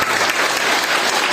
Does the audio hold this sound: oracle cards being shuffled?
no